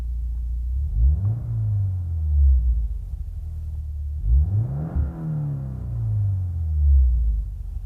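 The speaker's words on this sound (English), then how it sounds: "I'm going to rev the car from inside as well, so you could hear the interior noise of it." A 2015 Subaru WRX with an aftermarket exhaust revs twice from inside the cabin, each deep throaty rumble rising in pitch then falling back to a low idle.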